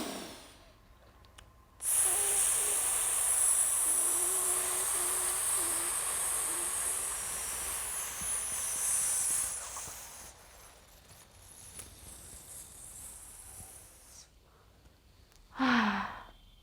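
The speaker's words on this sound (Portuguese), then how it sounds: "soltando a respiração em S, controlando a respiração, talvez até no meio dos meus dentes, nos meus lábios" A long, controlled breath exhaled through the teeth and lips in a steady hissing S, sustained for about eight seconds and then tapering off, followed by a quieter stretch and a final short breath.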